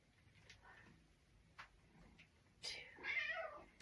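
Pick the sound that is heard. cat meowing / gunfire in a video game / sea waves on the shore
cat meowing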